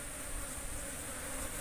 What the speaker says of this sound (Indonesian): lebah kecil-kecil ini mas.